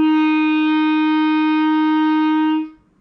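A single sustained clarinet note, played with the back thumb hole fully covered, rings steady and clear for about two and a half seconds, then stops cleanly.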